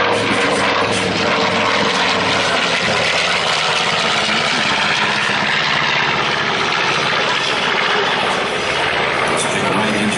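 A loud propeller aircraft at an air show at Stewart International Airport, New York, roars steadily overhead, its engine drone thick and continuous throughout with no break or fade.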